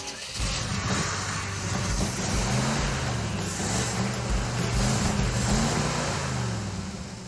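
A 1969 Dodge Charger Daytona engine idling after a new coil is fitted, idle raised so it runs faster: a close, rumbling, steady idle with a lumpy pulsing rhythm, with faint voices in the background.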